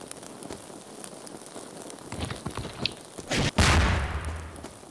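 Fireworks go off inside Garry's Mod, a crackling, popping fusillade of small bursts that builds to a louder burst near the end over a noisy background.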